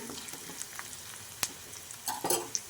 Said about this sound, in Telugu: 2 రెమ్మల కరివేపాకు వేసుకున్నాను. అవి వేగుతుంటాయని 1/2 టీ స్పూన్ పసుపు వేస్తున్నా.